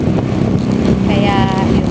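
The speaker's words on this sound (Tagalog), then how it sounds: "Motor kami ngayon." Motorcycle riding along with a constant loud rumble and rushing wind buffeting the microphone, with a voice speaking briefly over the engine noise.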